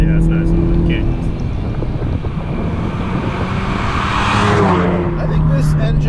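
2016 Chevrolet Camaro with a 2.0T turbocharged engine in sport mode accelerating from inside the cabin, a loud rising engine roar with people talking over it and a brief swell of noise partway through.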